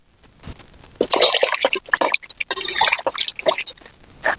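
Cut potato pieces being washed in water in a pot outdoors at a farm: splashing, dripping and squishing sloshes come in irregular bursts after a quiet start, close and fairly loud, with no talking.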